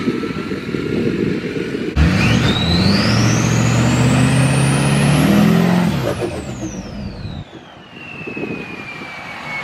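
A restored Cummins diesel truck revs and rumbles close by as it is driven up and parked in front of a house, engine droning loudly before dropping off near the end, with a rising whine over it.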